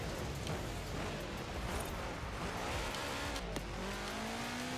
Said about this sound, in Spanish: Escuchen el carro, amigos. Cuando frena, cuando acelera,